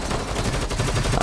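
Sustained rapid gunfire from the video game Rainbow Six Siege during a Terrorist Hunt mission, a dense burst of shots filling the whole moment, loud and close.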